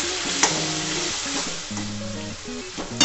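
Spice paste for a pointed gourd and coconut curry fries and is stirred in a pan, a steady close sizzle with scraping spoon strokes and faint clinks throughout.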